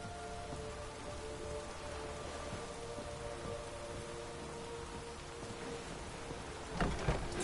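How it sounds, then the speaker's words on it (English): Steady rain falls throughout a video game scene, an even wash of droplets with a brief louder burst near the end. "Looks like rain."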